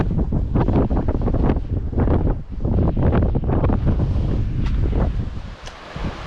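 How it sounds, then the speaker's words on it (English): Strong, steady wind at the seashore in Immingham Bay buffets the microphone with loud, continuous rumbling gusts, the incoming tide's waves faintly washing in behind it. "in windy weather like this, tide coming in"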